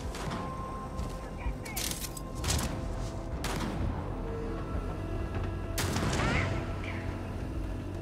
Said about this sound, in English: Stop shooting me, it's rude.